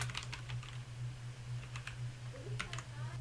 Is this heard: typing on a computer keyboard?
yes